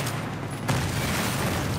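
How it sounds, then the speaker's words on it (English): A deep boom goes off in the video game Battlefield 3 during the Operation SwordBreaker mission, a sudden loud burst that rumbles on with dense noise. "explosion."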